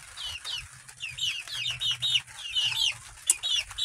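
A backyard hen clucks and chirps in a quick string of high, close calls, with soft low murmurs in between and no talking.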